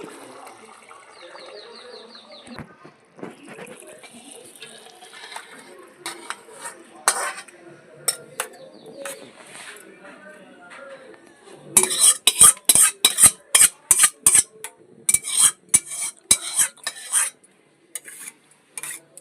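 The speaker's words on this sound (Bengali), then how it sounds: "হয়ে গেছে আমি এখন ঢেলে নিচ্ছি" Hilsa fish curry in a pan being served out, with dishes and cutlery clinking and scraping in a loud, busy burst of clatter after quieter kitchen sounds, with light talk.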